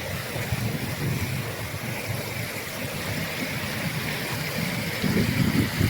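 Fast-flowing mountain stream rushing over rock pools, a steady, fairly loud broadband rush of water with no voices.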